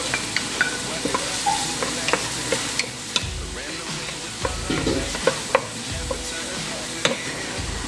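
Onion and tomato sizzling in a hot pan, a steady frying hiss broken by sharp clicks and scrapes of a stirring utensil, close up and without talk.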